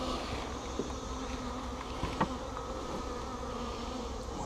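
Honeybees buzz steadily and up close during a nuc transfer, a dense continuous hum with brief louder passes as individual bees fly near.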